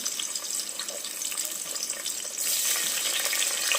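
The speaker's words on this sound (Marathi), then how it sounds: "आपलं तेल गरम झालेलं आहे आपण जे दोन कांदे कापून घेतले ते टाकून घेऊया" Sliced onions hitting hot oil for an egg biryani tempering, giving a steady broadband sizzle that jumps louder and brighter partway through, with no talking.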